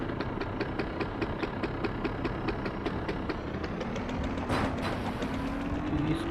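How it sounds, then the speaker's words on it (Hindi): Scooter engine idling in the Gangstar Vegas video game, a steady rapid putter with regular knocking pulses, close and continuous, with a brief rise in revs near the end. "स्कूटर से जाने वाला हूँ"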